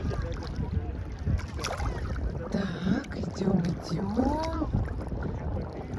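Sea waves slosh and surge around a person wading chest-deep off a beach at Dzhemete, with wind buffeting the microphone and someone speaking briefly over the water noise.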